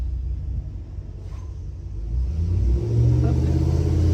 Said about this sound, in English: Ignore the school bus